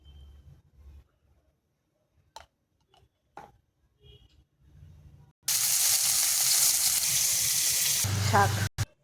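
Carrots and beans fry in a hot pan. After several quiet seconds with a few faint clicks and low talk, a loud, dense sizzle bursts in and roars steadily for about three seconds before cutting off.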